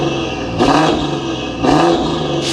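A BMW M4 CS with a single-turbo kit and custom exhaust revs loudly at close range in three surging blips with a rough idle between them.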